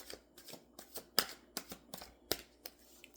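Rider Waite tarot cards being shuffled by hand, a quick run of crisp riffling snaps and soft slaps in uneven bursts, close and fairly quiet, with no speech.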